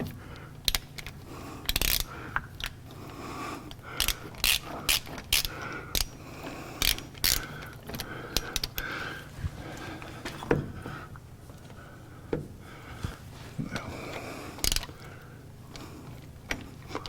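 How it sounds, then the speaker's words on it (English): A jack raises the wheel of a Tesla in a workshop, giving a series of sharp metallic clicks and ratcheting clunks at irregular intervals over a low steady hum, close by with no talking. "So, we jack up a tire."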